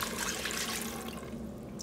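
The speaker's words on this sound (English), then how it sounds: "I'm just gonna pour that right in." Six cups of chicken broth poured into an Instant Pot for chicken noodle soup, a continuous liquid splashing and trickling that runs steadily throughout at close range.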